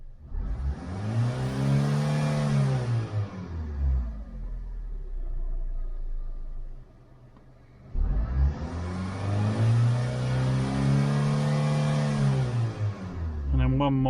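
A car engine revs hard up to about 4,000 rpm after its ECU was reset, climbing and falling in a sweeping arc, then idling low before a second identical rev, loud and close.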